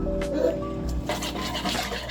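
Hot water is poured into a pot of Nigerian dry okra soup, giving a brief, close splashing fill that lasts about two seconds.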